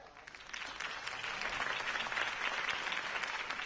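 A crowd in the Batman Telltale Series video game claps and cheers in a sustained burst of applause that swells and holds steady throughout.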